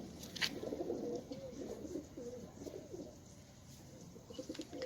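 Pet pigeons on a rooftop in Sialkot coo softly in low, rolling, repeated calls, several birds overlapping close by, with a brief sharp chirp near the start and quiet background noise.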